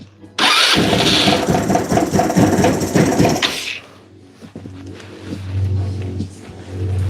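An engine in a garage starts with a loud, rough burst of mechanical clatter for about three seconds, then settles into a low, quieter idle that rises slightly near the end.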